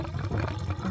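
Water rushing out under good pressure from a newly installed off-grid rain water pump, a steady close splashing flow that runs continuously for about a second.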